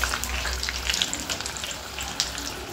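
Okra (bendi) pieces fry in hot oil in a pan for a crispy snack, a steady close crackling sizzle with small bursts and pops and no voices.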